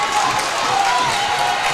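A high school boys' wrestling championship crowd roars in a steady, full cheer that fills the gym, loud and continuous with no clear gaps.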